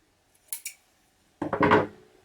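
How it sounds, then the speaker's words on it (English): Scissors trim the end of chunky jute twine: two crisp snips close together, then a louder rustling crunch of fibres being cut and handled, close and alone. "I might just trim a bit off the end just to kind of neaten it up a wee bit."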